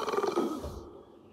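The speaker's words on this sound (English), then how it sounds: "Atomic burp." A long, exaggerated burp that rumbles deep and loud, then slowly fades out, like a cartoon sound effect.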